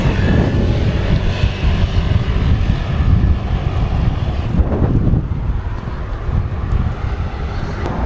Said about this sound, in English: the wind here is insane!